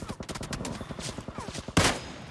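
Rapid automatic gunshots in PUBG Mobile, a quick rhythmic string of close, punchy shots followed by one louder, sharper blast at the end, with faint speech underneath.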